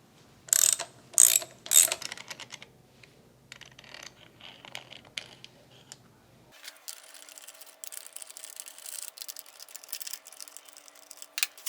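Ratchet wrench loosening the four 10mm bolts on the air cleaner elbow of a Honda GXV530 overhead cam twin-cylinder engine: a few loud, close bursts of rapid clicking, then quieter intermittent ratcheting and mechanical ticks.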